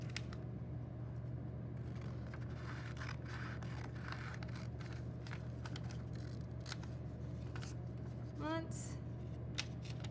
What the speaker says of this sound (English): we can open it back up and cut along the crease